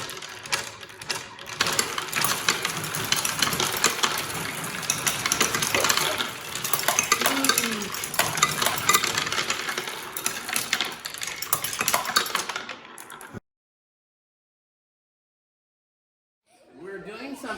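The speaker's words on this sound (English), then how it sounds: "See how the marble pump's working." Marbles clink and rattle through a homemade marble pump machine in a dense, continuous mechanical clatter with voices mixed in, then the sound cuts off abruptly into silence before faint noise returns.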